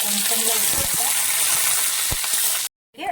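Mustard seeds crackle and sizzle in hot oil for kozhuppa thoran, a loud, dense frying hiss with a few pops that cuts off abruptly near the end.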